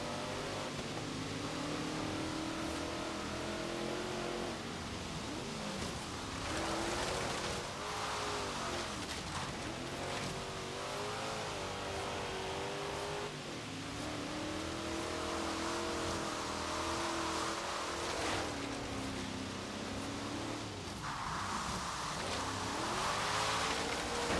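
A car in Forza Horizon 3 is driven hard on wet ground, partly off-road, its engine rising and falling through repeated rev climbs and gear shifts over a long, continuous stretch without talking.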